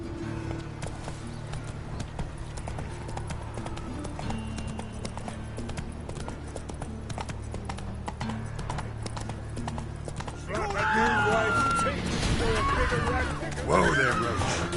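Geralt's horse Roach in The Witcher 3 trots with steady, rhythmic hoof clip-clops over game ambience and music, then a whinny and snorts rise near the end, with voices talking over it.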